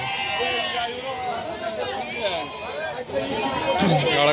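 Sheep and lambs bleat loudly and overlap at a busy sheep market in Haveri, with crowd chatter and nearby voices talking throughout.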